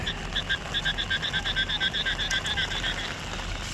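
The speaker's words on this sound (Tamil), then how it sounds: "தவளை சத்தம் பயங்கரமாக இருக்குது" Frogs croak at night in a fast repeated series of chirping calls, fairly near, over a constant hum of outdoor background noise during night-time crab catching.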